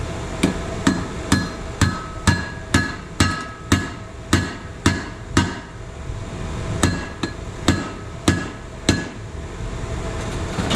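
Steel hammer striking a socket to drive a part down while converting a Chevy distributor for a Flathead Ford: about fifteen sharp, ringing metallic blows in a steady rhythm, close and loud, with a short pause midway.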